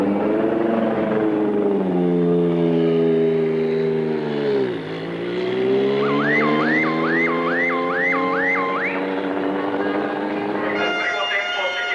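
A 1986 Formula One single-seater driven hard around a circuit, its high engine whine rising and falling through gear changes and a brief dip, steady and loud throughout, with a warbling tone briefly over it.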